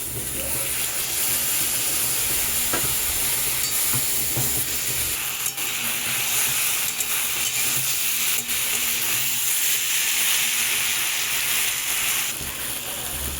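Vegetables and ground spices sizzling in a pan for a spicy morola fish curry while being stirred, a steady close hiss with scraping stir sounds throughout and no talking.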